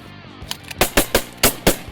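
Shotguns fire at ducks during an Arkansas duck hunt: a rapid volley of about six loud, sharp blasts from several hunters, coming in quick succession with echoing tails and no talk.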